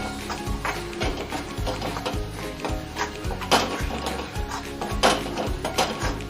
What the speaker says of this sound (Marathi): आता आपण त्याला पण व्यवस्थित त्यामध्ये परतून घेऊया